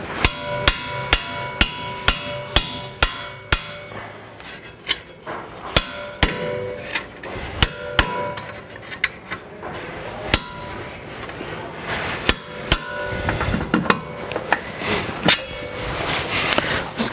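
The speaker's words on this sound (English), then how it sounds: "I'll grab my hammer." Repeated sharp metallic hammer blows on a strut bolt of a 2012 Subaru Forester, fast and irregular at first, then spaced out, ringing over a busy workshop background.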